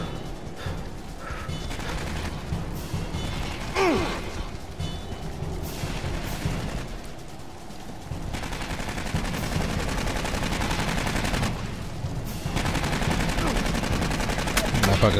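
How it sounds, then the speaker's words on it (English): Enemy gunfire in the Aliens: Colonial Marines video game: rapid bursts of automatic weapon fire and sharp shots over a dense, continuous game soundscape, with no clear pauses. "He's shooting at me."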